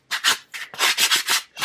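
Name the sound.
sanding the edges of cut pieces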